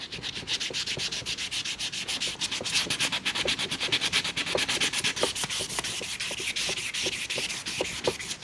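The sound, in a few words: wet sanding a fiberglass dashboard repair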